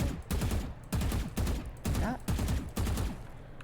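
Rapid bursts of gunfire sprayed in the game Valorant, six or so loud repeated volleys in quick succession with brief gaps between them.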